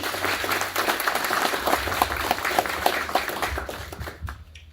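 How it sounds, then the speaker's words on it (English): An audience at a VFW awards ceremony applauds with distinct, crisp claps, a close mix of individual hands within the crowd, fading out near the end. "please give a round of applause"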